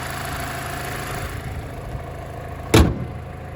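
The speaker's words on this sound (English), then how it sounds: "Reasonably solid hood closing action." A 2014 Mazda 6 hood is closed with one solid, loud thud near the end, over the low steady hum of the idling engine.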